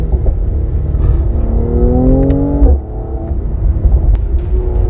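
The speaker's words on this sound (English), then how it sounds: "The C43 AMG in a beautiful twisty country road." A 2019 Mercedes-AMG C43 coupe driving on a twisty country road, its engine note climbing steadily under load, then dropping sharply as the revs fall before building again, loud and continuous with road rumble beneath.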